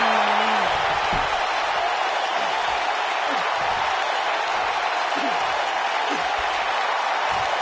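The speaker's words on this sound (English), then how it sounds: "by the sound of this crowd, I think they're getting what they wanted" Arena crowd in the wrestling video game WWE 2K19 roars in a steady, loud wash of cheering, with faint whoops and announcer-like voices murmuring underneath.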